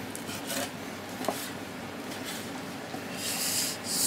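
A knife cuts chicken and shirataki noodles into small pieces on a cutting board, making soft, irregular scraping and tapping strokes over a faint background hiss.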